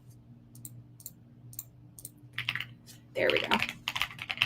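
Keys clatter on a computer keyboard that had briefly stopped working, with sparse clicks at first building into a denser, louder burst of typing; a voice speaks briefly.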